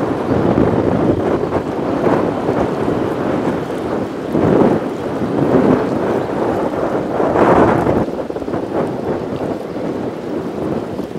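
A small two-engine river barge drifts downstream, giving a steady low rumbling drone mixed with wind buffeting the microphone, continuous and fairly loud throughout, with no talking.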